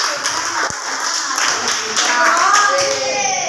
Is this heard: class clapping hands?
yes